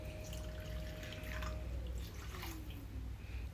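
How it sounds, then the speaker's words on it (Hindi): Water poured into a cooking pan of vegetables while making a semolina dish, a brief faint trickle and splashy pour with a few drip-like sounds, quiet and close, without talking. "तो यहाँ मैंने पानी ऐड कर दिया."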